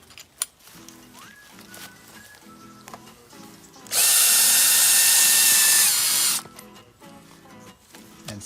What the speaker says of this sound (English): drill in your ground dogs.